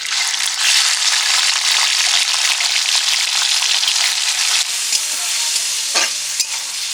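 Shrimp fry in hot oil already seasoned with turmeric, giving a loud, continuous sizzle close up, with a brief stir or scrape of the pan toward the end.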